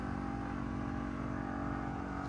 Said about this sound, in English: That's the refrigerator making all that noise.